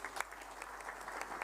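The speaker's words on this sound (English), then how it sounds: "A round of applause again." Applause at the close of the 13th IGAD Annual Health Ministers meeting, a steady wash of many hands clapping at moderate distance, fairly quiet and continuous for a moment.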